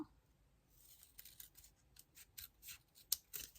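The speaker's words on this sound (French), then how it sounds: "couper tout ce qui dépasse" Scissors snipping off excess paper for a small art journal collage, a quick run of close, crisp cuts coming in uneven bursts over a quiet background.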